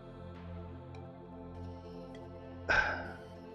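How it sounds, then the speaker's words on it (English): A single short dog bark or yip bursts out near the end over steady farm-machinery drone in Farming Simulator 17, fairly loud and brief. "it's one of my dogs"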